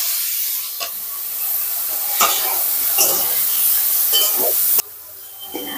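Chopped green chilli, ginger and herbs being stirred together in a bowl, a soft wet scraping and swishing that comes in a few short bursts, close and fairly loud, with no voices.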